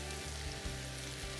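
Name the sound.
meatballs sizzling in oil in a pan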